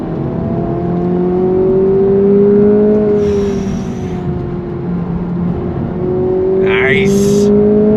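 A 2025 Acura Integra Type S with a 6-speed manual accelerating, its engine tone climbing and steadying through the gears as a loud close interior drone, with someone talking over it.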